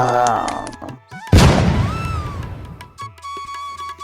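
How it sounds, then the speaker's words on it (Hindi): Firecrackers burst with a sharp bang, followed by a crackling rumble that fades over a couple of seconds, with voices talking around it. "इस बार के पटाखे तो काफी मजेदार हैं। फोड़ने में काफी मजा आ रहा है।"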